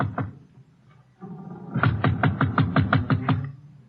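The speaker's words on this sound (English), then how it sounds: "he knocks on the door." Knuckles rap on a ship's cabin door in a radio drama: two soft taps, a pause, then a quick, even run of about eight firm knocks, close and dry.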